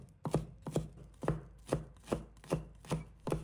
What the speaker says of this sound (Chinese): 再准备几个大蒜，先把它拍碎，